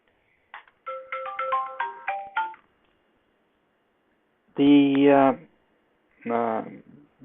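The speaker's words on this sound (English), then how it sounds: "it was a phone calling" A phone ringtone rings with a quick run of bright melodic beeps, then two louder sustained chiming tones after a pause, close and clear with no talking over it.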